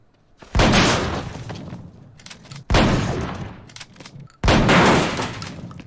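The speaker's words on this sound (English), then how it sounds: "He was making all those shots with a handgun." Handgun shots in the film No Country for Old Men, three loud, heavy blasts spaced about two seconds apart, each with a long booming, rumbling decay.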